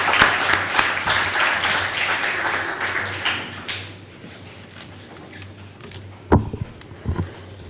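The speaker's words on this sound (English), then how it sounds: "Please help me give them a round of applause this morning." Audience applause at a high school honors and National Honor Society ceremony, a moderate burst of clapping that fades after a few seconds, leaving quiet room tone with a few taps and knocks near the end.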